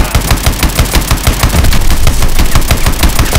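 Rapid automatic gunfire from a mech suit's main gun in the game Call of Duty: Advanced Warfare, a loud, dense stream of closely spaced shots continuing steadily throughout.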